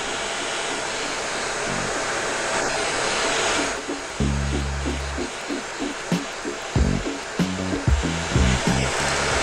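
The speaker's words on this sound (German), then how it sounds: "immer mal mit dem Föhn hier ein bisschen wandern" Hair dryer blowing hot air to loosen the display of an Audi TT 8N: a steady, close broadband whoosh runs throughout, with knocking and clicking handling noises joining in the second half.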